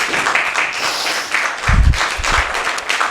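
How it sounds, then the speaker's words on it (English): An audience claps at a Somali community meeting on immigration policy in Seattle: brief, moderately loud applause from a room of people, with a few heavier thumps partway through. "Please give her a round of applause."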